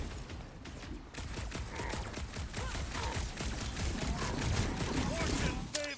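Sustained rapid gunfire in Marvel's Guardians of the Galaxy, dense bursts of shots crackling continuously with mechanical clatter and game effects, loud and close.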